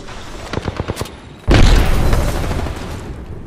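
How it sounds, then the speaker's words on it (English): Video game gunfire rings out in a quick run of sharp shots, then a loud close blast with a heavy, rumbling tail that gradually fades. "Taking fire, Ross."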